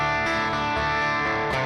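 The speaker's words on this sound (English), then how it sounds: "I think this is a modeling an OD1, but you start giving it some distortion, man alive" Electric guitar run through an OD1-model overdrive pedal into a clean amp, giving a thick, sustained distorted tone that rings loud and continuous with a few chord changes.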